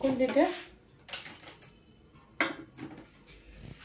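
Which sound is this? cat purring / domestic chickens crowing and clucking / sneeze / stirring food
stirring food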